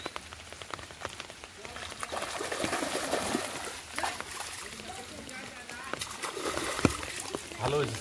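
Fish being rinsed and washed in pond water on a rainy day, with steady splashing and dripping water sounds throughout and voices talking over it.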